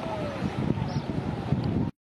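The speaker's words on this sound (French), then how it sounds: "je sais pas si vous entendez quelque chose avec le vent" Wind gusting across a microphone at a lakeside stop, a loud, rough buffeting rumble with small bursts that continues for about two seconds and then cuts off abruptly.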